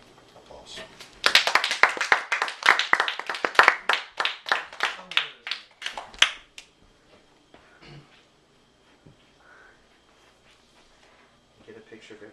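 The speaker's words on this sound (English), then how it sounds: "Applause." Applause after an informative speech, a burst of brisk clapping that rises sharply, holds for several seconds, then thins out to scattered claps and faint room noise.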